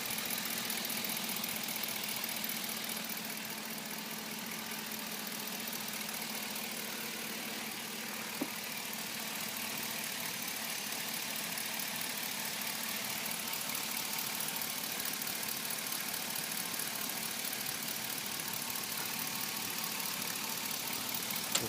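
A 2007 Chevrolet Silverado 4x4 with a 5.3 V8 idling smoothly, a steady even hum held for over twenty seconds, close and alone.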